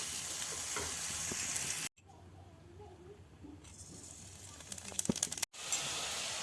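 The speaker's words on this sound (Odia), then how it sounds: "ପୋଟଳଟା ଏମିତି ଅଳ୍ପ ତେଲରେ ଭାଜିଲେ ଭଲ" Pointed gourd (potol) fries in a small amount of oil with a soft, steady hissing sizzle that cuts out briefly twice, while a voice speaks quietly during the middle stretch.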